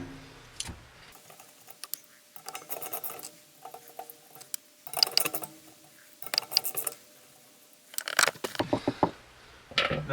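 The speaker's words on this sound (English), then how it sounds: "these 3 screws, these 3 nuts that we're going to loosen up" Nuts and screws being loosened and removed from a Lomanco attic power vent fan, giving irregular clicking, ratcheting and metallic tool contact in scattered bursts, fairly close, with no talk.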